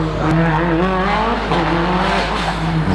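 A Subaru WRX rally car accelerates hard up a hillclimb course, its loud, close engine revving through rising pitches with a shift and fresh climb midway.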